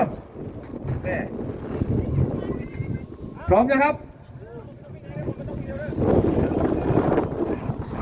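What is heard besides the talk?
gusty wind at a kite festival field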